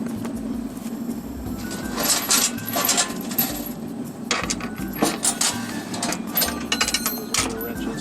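Metal wrenches clank and clatter as they are handled on a farm, giving intermittent close knocks and jingles over a steady background hum.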